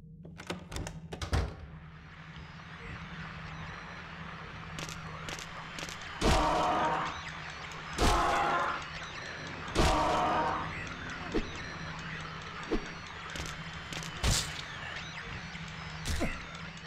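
Heavy melee blows from a steel pipe in Silent Hill 2 Enhanced Edition on PC land as a series of sharp, separate thuds a second or two apart, over a low steady hum with a few lighter knocks between.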